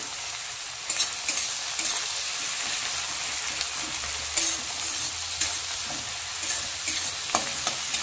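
Onions and slit green chillies sizzle steadily in a frying pan while a spatula scrapes and stirs with intermittent clicks against the metal, close and continuous, with no voices.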